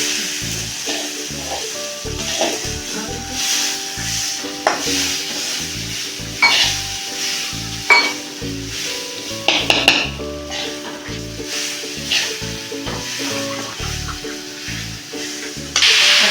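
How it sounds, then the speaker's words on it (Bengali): Gobindobhog rice is poured into a hot pot and sizzles steadily, with repeated stirring scrapes and pan clatter throughout. The sounds are loud and continuous, with no voices. "গোবিন্দভোগ চালটা ঢেলে দিলে"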